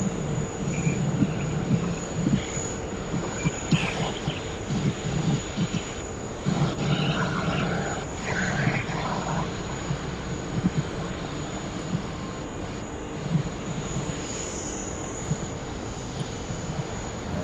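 Kalitta-operated DHL cargo jet from Nagoya, Japan, landing on runway 16 right at Sydney Airport: a steady, distant engine roar that rises and falls slightly, with a constant high whine and faint rumbling throughout.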